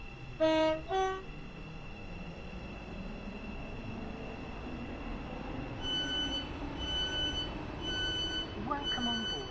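A train at Leighton Stepford Road station in the SCR video game: a steady low rumble under a short rising chime at the start, followed later by a run of repeated electronic beeps.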